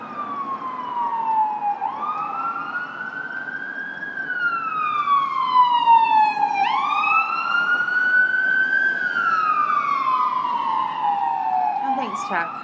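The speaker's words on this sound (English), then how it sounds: "There's an ambulance coming," An ambulance siren wails, rising and falling in long sweeps, growing louder as it approaches, with faint background noise.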